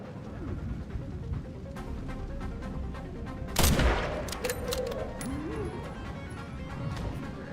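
A single sharp gunshot rings out at mid-distance in Resident Evil, a loud crack standing out from a busy bed of game ambience and scattered impacts.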